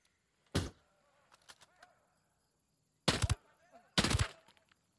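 Three sharp, loud bursts of suppressed gunfire from a submachine gun in the tactical shooter Ghost Recon Breakpoint: one short crack early, then two longer rapid bursts close together near the end, with quiet game ambience between.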